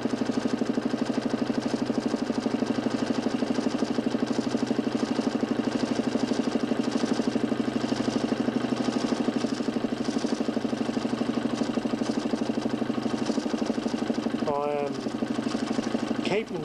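An electric motor spins a homemade 40 cm plywood disc of a mechanical television, a steady droning hum with even tonal bands throughout, while a towel on wood lightly brakes it; a short voice is heard near the end.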